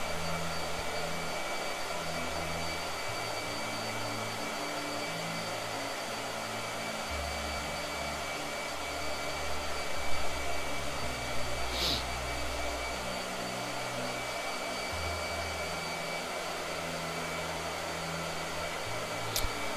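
A blow dryer whirs steadily at close range for the whole stretch, its airflow shifting slightly in pitch now and then, with no voices.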